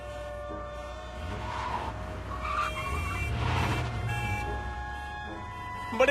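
A cartoon car pulls away, engine revving and swelling then easing off beside a steady tonal hum, with voices chattering faintly underneath.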